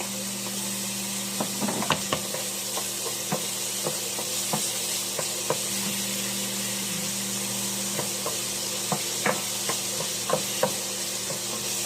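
Onion and garlic sauté in a pan with oil, a constant sizzling hiss under repeated sharp clicks and scrapes of a utensil stirring against the pan, close and fairly loud, with no talking.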